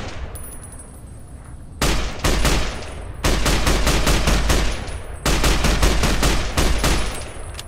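Rapid automatic gunfire from Fallout New Vegas in the Lonesome Road DLC rattles in three loud, sustained bursts of fast repeated shots, separated by short pauses, with no talking.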